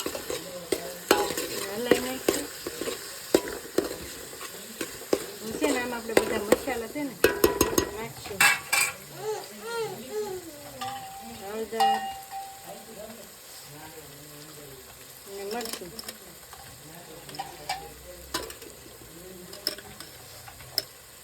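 Corn and tomato sizzle in a pan while being stirred, with repeated rhythmic scrapes and clinks of a spoon against the pot over a soft hiss, and people talking at times in the background.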